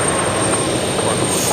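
An Embraer jet engine at Brisbane Airport roars loud and steady with an odd resonating high whine running through it, with no other sound.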